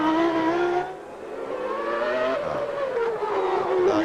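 Ayrton Senna's 1990 Formula 1 car on a qualifying lap in Australia, its screaming engine rising through gears, cutting briefly on a shift, then climbing again and settling into a sustained loud wail.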